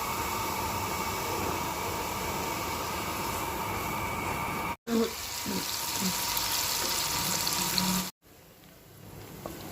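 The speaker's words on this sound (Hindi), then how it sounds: "प्याज डाल के मैं इसको रख दूँगी फ्राई करने के लिए।" Onions fry in oil in a pot with a steady, hissing sizzle that fills most of the clip, close and even, broken by two brief cuts and a quieter final stretch with faint clatter.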